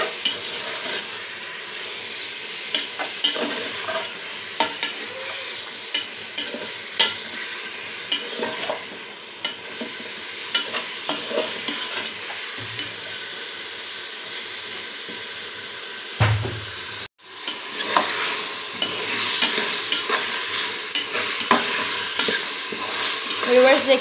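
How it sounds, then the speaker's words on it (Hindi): Mutton pieces frying and being stirred in a pot for pumpkin gosht, a steady close sizzle with scraping stir strokes throughout and a brief knock partway through. "गोश्त को हम लोग उस वक्त तक फ्राई करेंगे जब तक इसका कलर जो है ये चेंज नहीं हो जाता"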